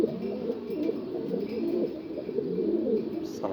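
Egyptian pigeons coo in a dense, continuous chorus of low rolling calls, close and moderately loud, with overlapping birds throughout and a faint voice underneath.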